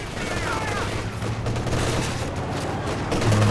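Battlefield gunfire in Company of Heroes 2 during a 2v2 match, a dense continuous crackle of rifle and machine-gun fire with muffled explosive thumps, including a grenade blast among the clatter, close and loud throughout.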